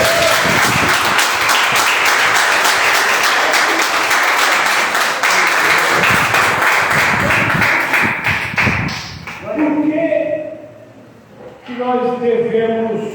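A church congregation applauds in a loud, dense burst of clapping that fades into a preacher's amplified voice speaking over the tail of the applause.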